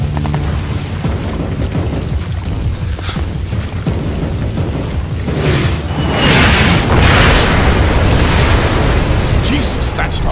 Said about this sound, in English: that's not mortar fire. Sounded like Katushas.